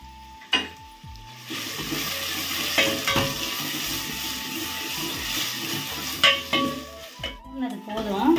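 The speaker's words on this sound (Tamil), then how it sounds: "கொஞ்சம் வெங்காயம் தாளிக்கிறது கொஞ்சம் வச்சுட்டு, அதுக்கப்புறம் இந்த தேங்காய், கொஞ்சம் தக்காளி போட்டு நம்ம வதக்கி எடுத்துக்கலாம்" Onion, coconut and tomato sautéing in a pan for vegetable kurma, giving a steady close sizzle broken by spoon stirs and a few sharp metallic knocks, with no voices.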